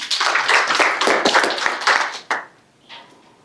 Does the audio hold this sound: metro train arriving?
no